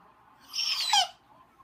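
A person imitates a bird call with one short whistled, chirping phrase of rising and falling pitch, moderately loud and close, with quiet around it and no speech.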